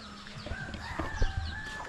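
Backyard poultry hens cluck and mutter under a house behind a net enclosure, with a distant rooster crowing, soft overlapping calls at moderate distance.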